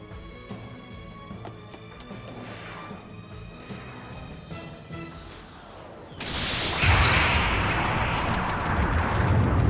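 Laser fire in the Xenosaga Episode III video game: a series of sharp zapping blasts over a humming background, building into a loud, dense roaring burst in the second half, with no talking.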